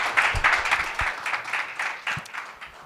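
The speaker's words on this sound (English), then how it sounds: "A round of applause for our sponsors." Audience at a cannabis industry and policy summit applauds the sponsors, with a short burst of brisk, fairly close clapping from a modest crowd that fades slightly toward the end.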